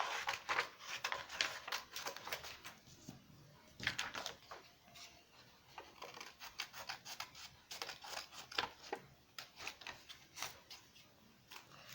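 Scissors cutting out a paper pattern for a nose mask, close and fairly quiet, with irregular repeated snips and rustling paper scrapes, no talking.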